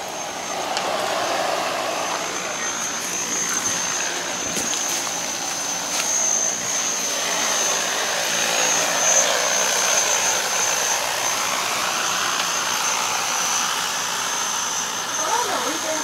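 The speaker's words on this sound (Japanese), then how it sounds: "ドローンの実演を行っておりますので、" Agricultural drone flying in a demonstration at a large farm equipment exhibition, a steady high-pitched whine and rotor drone continuing throughout amid crowd noise and voices.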